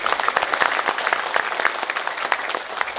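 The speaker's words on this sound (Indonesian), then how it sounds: "Mohon tepuk tangannya sekali lagi dong" An indoor crowd at an accreditation certificate handover ceremony at a university claps in a dense, steady round of applause, close and continuous.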